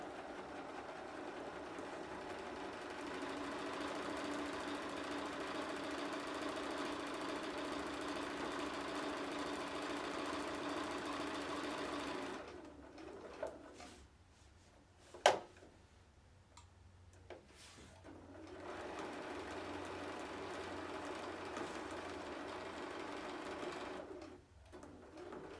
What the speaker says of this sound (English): stitch along all the sides except for the top here